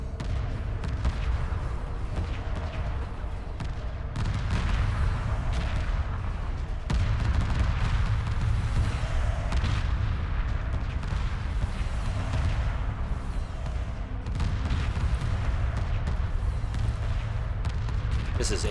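Space battle in Homeworld Remastered, a 3v3 match with missile corvettes fighting, dense overlapping weapons fire and booming explosions sounding continuously and loudly throughout.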